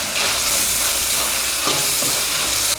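Pork stir-frying in a wok, with dark soy sauce going in, gives a loud, steady sizzling hiss that runs unbroken for a few seconds, close up and without any talking.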